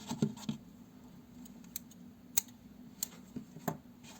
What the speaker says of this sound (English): Now cut yarn